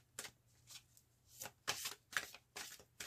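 Tarot cards being shuffled for a reading, a series of soft, quick riffling bursts in an irregular rhythm, close and fairly quiet with no talking.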